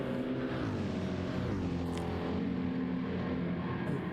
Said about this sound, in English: USA and the Track Design Racing car out on track